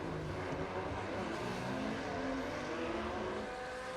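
Porsche 911 race cars lap the Long Beach street circuit, a steady, moderately distant engine drone with occasional revving and faint tire squeal, with no talk over it.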